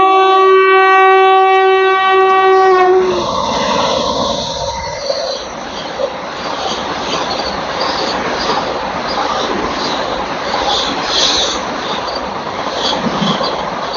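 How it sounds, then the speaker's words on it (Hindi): A Patna–Jaynagar Namo Bharat Rapid Rail train rushes through a station at about 130 km/h, its loud, steady rolling roar with wheel squeal and rattling building after a brief opening horn-like tone and holding to the end. "तो ये थी भाई साहब पटना जयनगर नमो भारत रैपिड रेल"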